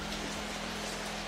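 Heavy rain pouring steadily on a roof at night, a dense continuous hiss with no breaks, moderately loud and close.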